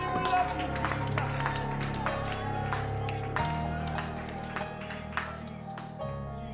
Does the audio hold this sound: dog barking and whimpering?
no